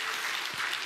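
A church congregation claps together in celebration during a Sunday worship service, a short, steady burst of fairly quiet applause filling the room with no talk over it.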